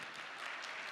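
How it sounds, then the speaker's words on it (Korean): A church congregation claps together during a Friday worship service, a brief burst of dense, steady applause heard on its own and fairly faint. "우리 고등부 아이들 박수 잘 쳐줘야 되겠고요"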